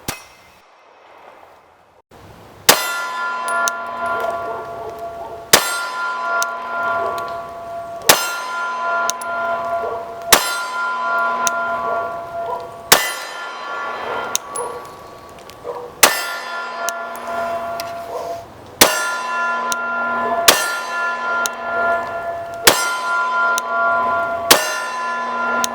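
Glock fitted with a 9mm conversion barrel firing 9mm rounds at a range: about a dozen loud single shots spaced a few seconds apart, each a sharp crack followed by a ringing metallic tail.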